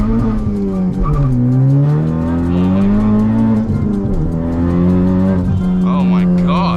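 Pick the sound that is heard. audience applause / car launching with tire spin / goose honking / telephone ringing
car launching with tire spin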